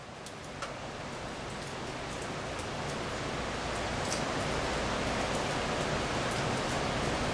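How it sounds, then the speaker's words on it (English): Heavy water rushing through a cave like a raging river, a dense, steady roar of broadband noise that slowly grows louder, with no voices heard. "You hear a lot of water flowing back here. Sounds like a mad, raging river."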